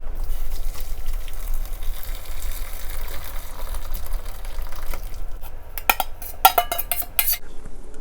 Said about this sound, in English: now strain the broth